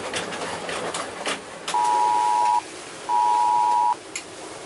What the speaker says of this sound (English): That's my phone. That's the first time that's happened.